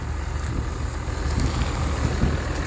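A Hino FM2K truck engine runs with a steady, loud low rumble and continuous throbbing, with air hissing in the background and no talking.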